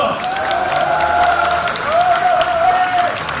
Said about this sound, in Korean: 여러분들에게 뜨거운 박수 부탁드립니다.